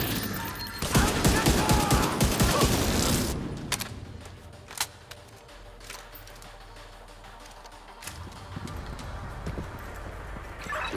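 Gunfire in Tom Clancy's The Division 2, a loud dense burst of rapid shots for a few seconds, then scattered single cracks amid quieter game ambience.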